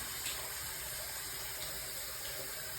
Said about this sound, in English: Then I turn on the water